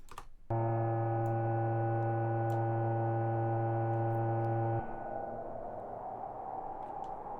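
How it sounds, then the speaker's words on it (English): A Moog Grandmother synthesizer with its white noise run through the filter makes a steady, wind-like hiss. It continues on its own after a loud sustained synth drone cuts off. "it's the white noise filter generating that wind"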